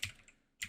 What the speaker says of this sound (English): I misspelled generated there with my quick typing